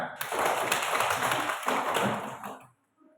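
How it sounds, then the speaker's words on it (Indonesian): A group of children claps together in a classroom for several seconds, a dense burst of hand claps that stops abruptly, followed by a brief quiet. "Ya, tepuk tangan."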